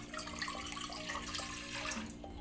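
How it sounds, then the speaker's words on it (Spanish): Two cups of water poured into a cooking pot for a milk capirotada dessert, a soft continuous splashing stream that runs steadily and then thins out near the end, heard faintly with a faint tonal hum underneath. "Primero empezamos poniendo 2 tazas de agua."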